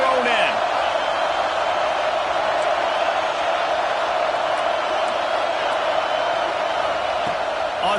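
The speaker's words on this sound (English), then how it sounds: "The roar of the crowd trying to fuel this defense to keep them pinned in their own end." Steady crowd roar in a football video game, a continuous loud stadium wash held under a commentator's voice throughout.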